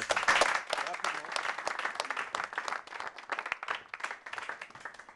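A choir applauds itself, a dense burst of close clapping from many hands that holds steady for several seconds, then thins and fades toward the end.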